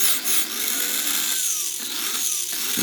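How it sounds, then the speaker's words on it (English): Top gears of a T-jet running with a steady, close, whining mechanical drone, a high gear whir that rises and falls slightly in pitch throughout. "you can hear some gear noise there"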